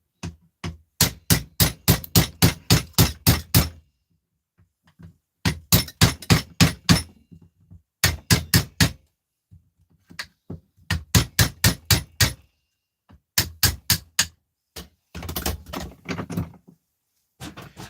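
Repeated sharp hammer blows strike a frozen object to crack its top off, landing in quick bursts of about six to ten hits separated by short pauses, loud and close with a glassy clink.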